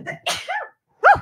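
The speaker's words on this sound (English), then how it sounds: "I'm going to sneeze in a minute." A person sneezes, with a sharp drawn-in breath and then a burst, and a second sneeze follows quickly after a short gap. Both are close and loud, and there is no talking.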